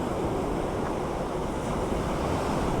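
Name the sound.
sea waves pummeling the rocks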